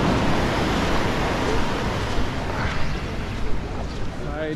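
Surf rolls in on Kamala Beach in Phuket, Thailand, a continuous loud broadband wash of breaking waves mixed with wind noise, with small surges near the end.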